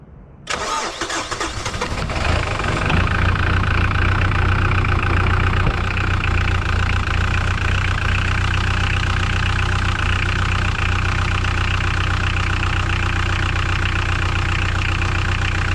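A Mitsubishi L200 K74 pickup engine, just refitted with a new fuel filter, cranks briefly and catches, then settles into a steady, loud, close idle that runs alone without interruption.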